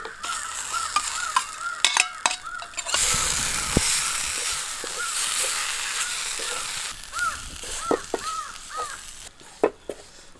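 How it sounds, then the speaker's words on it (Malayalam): Sautéed okra and tomato tipped into a frying pan of spiced curry base, a burst of sizzling hiss after scattered spoon scrapes and clatter, while crows caw repeatedly in the background. "നമുക്ക് ഈ വഴറ്റി വെച്ചിരിക്കുന്ന വെണ്ടയ്ക്കയും തക്കാളിയും കൂടെ ഇതിനകത്തോട്ടിടാം"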